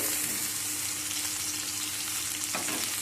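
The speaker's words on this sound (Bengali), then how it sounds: "এক সাইডটা সুন্দরভাবে ভাজা হয়ে গিয়েছে" Steady sizzling of eggplant frying in a pan, a continuous crackling hiss throughout with a brief scrape near the end.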